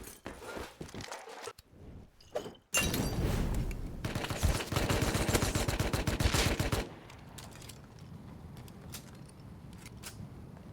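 A quick string of P2 pistol shots in Rust fired in a row, sharp close bangs packed into a few seconds, followed by quieter ambient noise and light movement sounds.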